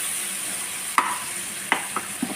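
Tomatoes frying in a pan for veg momos, a soft steady sizzle broken by a few sharp scraping stirs of a spoon, close and alone.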